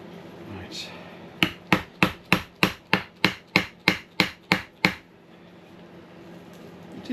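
A dozen evenly spaced hammer blows on a boat deck ring out in a steady rhythm, sharp and close, then stop, leaving quiet room tone.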